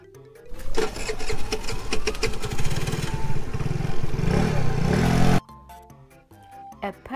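An orange moped engine buzzes and revs loudly with a rising pitch for several seconds, then cuts off abruptly, leaving quieter clattering sounds and a voice.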